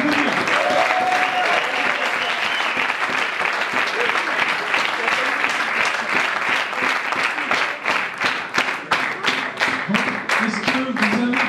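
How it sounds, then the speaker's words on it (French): A startup weekend pitch audience in Lyon gives sustained, loud applause, with crowd chatter blended in and individual claps turning sharper and more spaced as it winds down. "vous pouvez l'applaudir"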